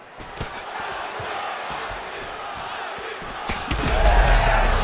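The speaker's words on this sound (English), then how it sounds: "they can take in the applause because they deserve it after that grappling exchange" A large crowd roars and cheers steadily in a UFC 5 video game fight, swelling louder near the end with a deep rumble underneath.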